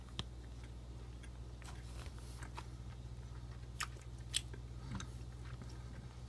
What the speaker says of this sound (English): I'm gonna go ahead and take another bite here.